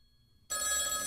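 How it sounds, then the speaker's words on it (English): A telephone bell begins ringing abruptly after a quiet moment, a loud, steady, bright electronic ring that fills the rest of the moment in a visual novel game. "The phone started to ring and I picked it up right away."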